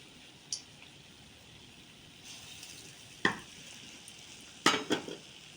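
Urad dal fritters (bora) frying in hot oil, a faint steady sizzle broken by a few sharp clinks and scrapes of a utensil against the pan.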